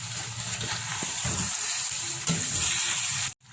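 Chicken varuval masala fries in a pan with a steady bright sizzle, broken by scraping, clattering stirs with a spatula, before the sound cuts off abruptly near the end.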